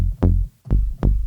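Deep, punchy FM synth bass notes from an Arturia DX7 solid bass patch repeat three times in a steady rhythm, each with a sharp attack and a thick, rounded low end.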